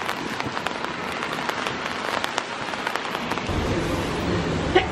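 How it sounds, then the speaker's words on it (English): Heavy, relentless rain pours down steadily at close range, a dense continuous patter with scattered louder drops and a deeper rumble building near the end. "But this rain is relentless."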